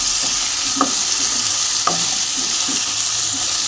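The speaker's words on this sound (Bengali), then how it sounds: "এখানে পরিমাণ মতন নুন দিয়ে দিলাম, দিয়ে একটু ভালো করে নাড়িয়ে চাড়িয়ে নেব" Lightly browned potato pieces with onion and tomato sizzle steadily in a pan as salt is stirred in, with a few distinct scraping strokes of a spatula standing out over the frying hiss.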